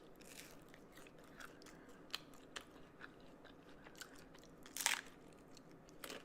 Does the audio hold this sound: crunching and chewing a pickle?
yes